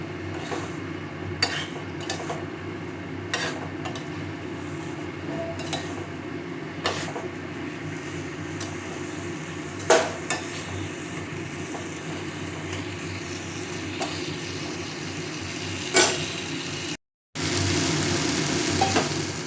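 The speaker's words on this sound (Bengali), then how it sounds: "এবারে আলু, পটল আর চিংড়ি মাছ এর মধ্যে দিয়ে বেশ করে কষাবো।" Potatoes, pointed gourd and prawns stir-fry in a masala, a continuous close sizzle punctuated by scattered clinks and scrapes of a spatula against the pan, with a brief dropout near the end.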